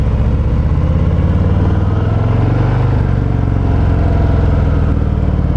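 A 2020 Harley-Davidson Fat Boy motorcycle cruises at low speed, its deep, loud engine rumbling continuously and close, with a steady throbbing drone throughout.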